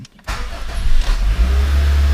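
A Honda Civic EM2 with a freshly completed manual transmission swap cranks briefly and fires up, settling into a loud, steady idle rumble close to the microphone.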